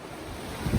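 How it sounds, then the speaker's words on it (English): The French Broad River runs high and full after heavy rains, a steady broadband rush of water mixed with wind buffeting the microphone, with no talk. "So coming up on the French Broad River. It's a big river."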